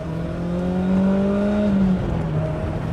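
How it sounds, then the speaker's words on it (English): A BMW E30 M3 engine revs up, its pitch climbing and holding steady before easing off, close by with no talking. "you have to really rev this car"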